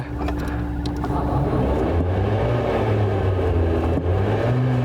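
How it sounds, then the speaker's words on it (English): A steady electric whir from an electric hypercar's fan, revved with the throttle pedal while stationary, rising and falling in pitch, loud and continuous throughout, with no voices. "you can actually rev up the fan when you're stationary"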